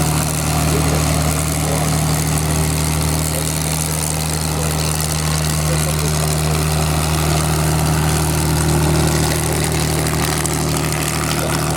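A two-seat heavy fighter's piston propeller engine drones steadily at an airshow at Duxford, a constant low throbbing hum with a broad wash of noise, loud and unbroken, without talk.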